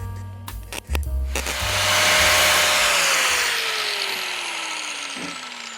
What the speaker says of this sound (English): True artist comes out when you're grinding at your crappy welds.